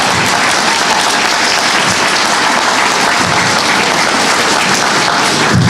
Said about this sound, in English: That's your cue to clap, by the way